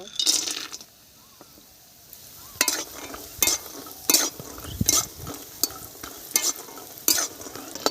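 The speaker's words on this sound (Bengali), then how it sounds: "প্রথমে বড়িগুলো ভেজে নেব" Lentil dumplings (bori) frying in oil in a home kitchen, a soft sizzle beneath a series of sharp metallic clinks and scrapes from stirring, spaced irregularly every second or so.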